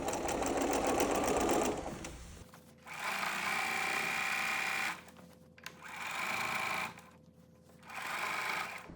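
A sewing machine stitches around the edge of a flannel rag quilt in three steady, close runs separated by short pauses. A brief clatter of handling noise comes before the stitching starts.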